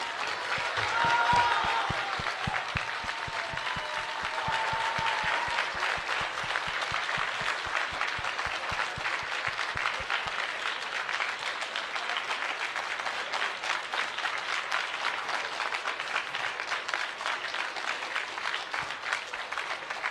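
An audience at an event gives a standing ovation, with dense, loud applause that builds early and then carries on steadily for about twenty seconds before it gradually thins out.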